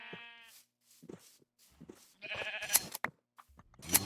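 A Minecraft sheep gives a quick bleat at the start, followed by scattered knocks, shuffles and other in-game sounds, with another short burst near the end, all fairly quiet.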